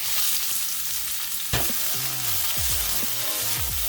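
Onions tipped into a well-oiled, smoking-hot pan on high heat crackle loudly, then settle into a continuous frying sizzle with stirring and scraping noises near the pan.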